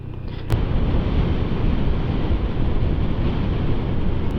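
Strong wind roars steadily against the microphone on a hill road near Binangonan and Angono, Rizal, a heavy low rumble that starts with a gust and keeps blowing without letup.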